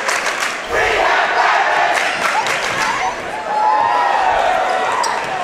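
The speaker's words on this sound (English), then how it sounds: "a huge ovation from the crowd as Batman walks in" A packed basketball gym roars in a big ovation, with shouting and cheering from the stands and a brief dip before the noise rises again. A commentator's voice runs under the crowd.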